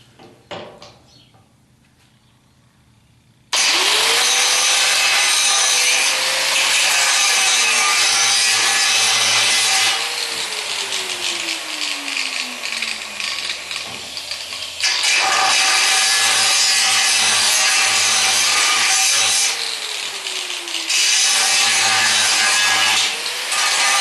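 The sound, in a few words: angle grinder grinding off a weld on a Corvette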